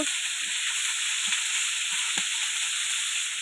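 Sea fish sizzles in hot oil in a pan, a steady broadband crackle held at an even level, broken by a few light knocks from turning or stirring.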